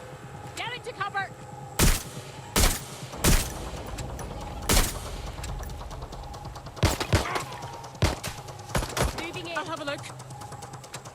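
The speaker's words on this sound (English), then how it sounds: "I'm taking fire!" Gunfire in Watch Dogs: Legion, a string of loud single shots spaced irregularly across the scene, with people talking in between the shots.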